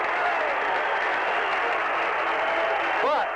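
A crowd at a varsity boys high school basketball game, Rockford Boylan against Chicago King, applauds and cheers in a steady, loud roar of clapping filling the gym, with a commentator talking over it.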